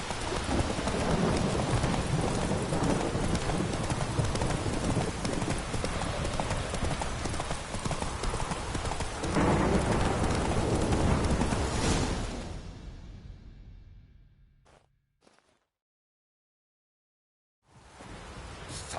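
Hooves of the horse Roach gallop in The Witcher 3 video game, a loud, fast, continuous clip-clop under rain and rumbling thunder, fading out toward the end before ambient sound returns.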